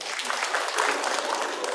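A comedy show audience claps steadily in a dense, close wash of applause, with a voice faintly under it.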